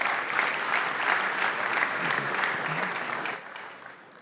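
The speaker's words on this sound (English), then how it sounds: "Round of applause." Crowd applause from the audience at a Basketball Champions League awards ceremony, a dense burst of clapping that holds steady and then tapers off toward the end.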